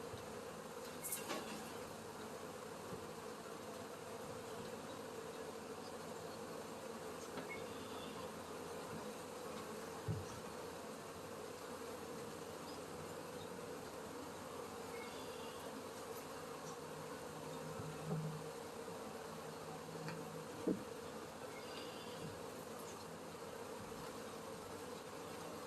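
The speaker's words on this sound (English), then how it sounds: "So you guys can see how the bees are clumping because they're kind of trying to figure out what's going on" Honeybees swarm around an open hive during a late-May inspection, a dense even buzzing drone that holds for the whole stretch, with occasional soft knocks and clicks from handling.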